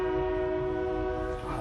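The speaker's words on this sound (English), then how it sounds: "Fucking train." A train passing close by with a sustained, loud horn blast holding steady tones throughout, the rumble of the rail cars underneath, with no speech.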